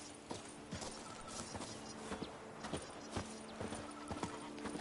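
Horse hooves clip-clopping at a walk in The Witcher 3 video game, an even rhythm of near hoofbeats with a faint whinny over soft ambient sound, no speech.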